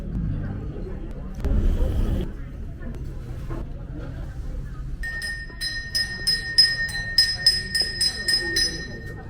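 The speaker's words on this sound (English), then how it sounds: "So he rang the bell and everybody is going to bring the garbage." A hand bell rung in a Hanoi street to call residents to bring out their garbage, sounding as a rapid, repeated clanging over steady street traffic and murmuring voices.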